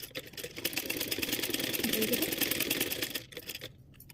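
Sewing machine stitching a blouse at home, a rapid, even mechanical chatter running steadily for about three seconds before it slows and stops, fairly quiet and close.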